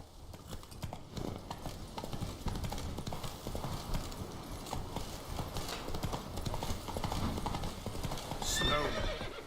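The horse Roach in the Witcher 3 video game trots with a steady rhythmic clip-clop of hooves and gives a neigh near the end, all close and continuous under faint game ambience.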